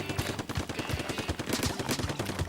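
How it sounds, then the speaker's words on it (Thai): Rapid volley of missile launches in Splatoon 2, a fast rhythmic string of punchy bursts repeating steadily and loudly throughout, with no talking. "ยิ่งเรายล็อกเป้าเยอะฮะจำนวนมิสไซล์ก็ยิงไปเยอะเท่านั้นครับ"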